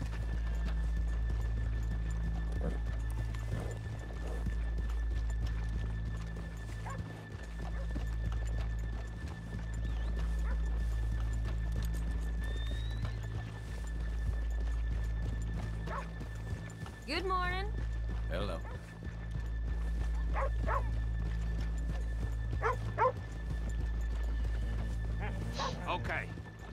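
In a video game, Red Dead Redemption 2, hooves clip-clop in a steady rhythm while horses whinny and snort nearby, over a constant low hum; a person speaks briefly.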